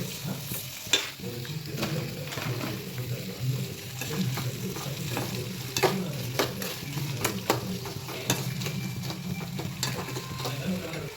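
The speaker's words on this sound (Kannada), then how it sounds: "ಈಗ ಉಳ್ಳಾಗಡ್ಡಿ ಹಾಕಿ ಉಳ್ಳಾಗಡ್ಡಿನ ಸ್ವಲ್ಪ ಕರ್ಕೋಬೇಕು ರೀ" Sliced onions fry and sizzle in hot oil in a pan for an onion chutney, with steady crackling broken by repeated scraping stir strokes, close and loud, with no talking.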